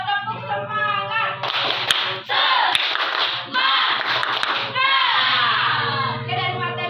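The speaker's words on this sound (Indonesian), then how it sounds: "Tepuk semangat." Students in an Indonesian classroom lesson perform a rhythmic spirit clap, sharp hand claps in short patterned bursts mixed with a teacher's and children's voices chanting along.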